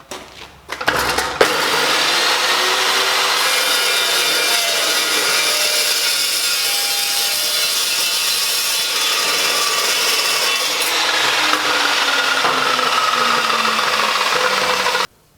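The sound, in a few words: Evolution Raptor TCT chop saw cutting wood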